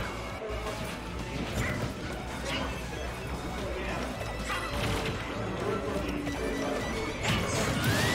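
An up smash attack lands in a Super Smash Bros match between Yoshi and Roy, a sharp hit amid busy game effects and crowd noise, with excited commentary running over it.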